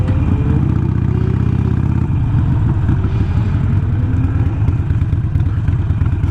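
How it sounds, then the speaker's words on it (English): Motorcycles pass on a street at night with a loud, rumbling engine clatter that rises and shifts as they go by, heavy and continuous throughout. "I hear motorcycles"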